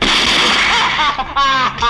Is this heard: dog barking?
no